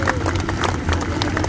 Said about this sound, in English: Let's give him a big clap here.